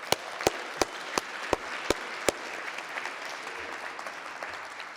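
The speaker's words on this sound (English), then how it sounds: "Another big round of applause," An audience at a Martin Luther King Jr. Day ceremony at a college applauding steadily, with a handful of loud, sharp individual claps near the front standing out in a regular rhythm before the clapping settles into a softer wash.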